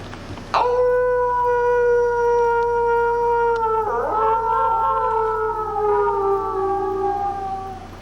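An audience howls together like wolves at a lecture, a loud sustained chorus of rising and falling wails that swells and slowly fades, with no talking over it.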